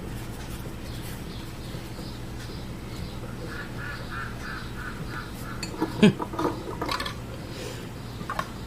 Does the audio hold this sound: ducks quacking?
yes